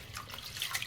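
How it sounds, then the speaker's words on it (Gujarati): Warm running water splashing from a tap into a sink while chana dal is rinsed several times for Gujarati dal dhokli, a steady close hiss with small splashes and no talk. "ગરમ પાણીથી ધોઈએ"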